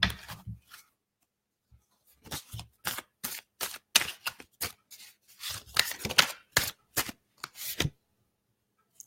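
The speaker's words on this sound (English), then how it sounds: "I'm pulling a card for Helen Dixon." Tarot cards are shuffled and pulled from the deck in a run of short, crisp riffles and slaps at close range, with brief pauses between bursts and no talk.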